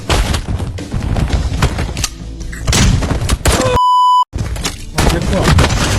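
Bursts of rapid gunfire and booming blasts from the VR game Nightclub Simulator fill the clip, with voices talking over them and a brief electronic beep tone near the end.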